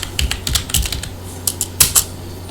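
Code being typed on a computer keyboard: close, irregular clusters of key clicks in short bursts, with no talk.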